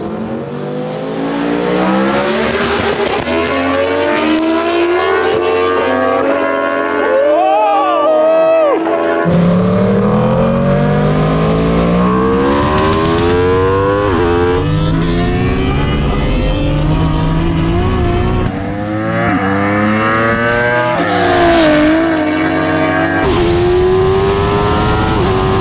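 A 1000hp turbo Toyota Supra with an inline-six drag racing an Aprilia RSV4 RF superbike, loud engines screaming and climbing through gears in repeated rising sweeps, with brief tire squeal.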